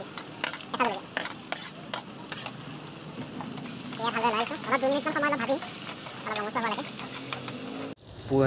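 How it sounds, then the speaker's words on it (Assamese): Onions fry in hot oil with a bay leaf, sizzling loudly and steadily close by while a spoon stirs and scrapes through them, ending abruptly. "এতিয়া পিঁয়াজখিনি প্ৰায় 2 মিনিটমান ফ্ৰাই কৰিলোৱেই"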